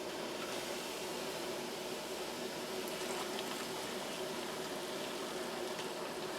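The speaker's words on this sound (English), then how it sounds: "Here's our brine, boiling." Steady bubbling of pickle brine boiling in a pot, a continuous rolling hiss with faint clinks, no voices.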